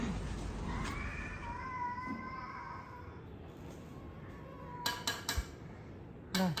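Several cats meow and yowl in a drawn-out, wavering cry during a scuffle, heard at moderate distance in a home, followed by a few sharp clattering knocks.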